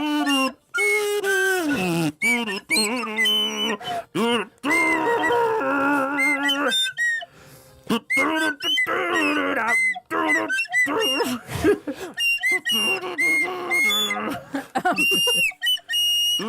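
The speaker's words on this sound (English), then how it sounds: "So I'm on the whistle, you're on the kazoo," A whistle and a buzzing kazoo play a tune together, loud and close, with wavering pitched notes and brief gaps between phrases.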